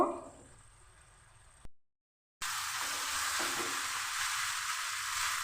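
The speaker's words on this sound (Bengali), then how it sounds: "লো টু মিডিয়াম করে চিকেনটা আমি কষে নেব।" Chicken being cooked down and fried in a pan over a low-medium gas flame, a steady broadband sizzle that drops out briefly before returning louder and continuous, with no voices.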